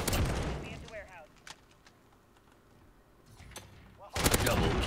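Rapid bursts of M4A1 automatic fire in Modern Warfare, one volley at the start and another near the end, with quieter scattered shots and a voice talking in the lull between.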